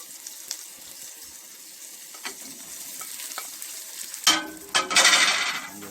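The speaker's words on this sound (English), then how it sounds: "I'm just sauteing them for a minute" Scallion, onion, garlic and ginger sautéing in a little cooking oil, a soft, low sizzle with scattered stirring clicks that grows louder and busier near the end.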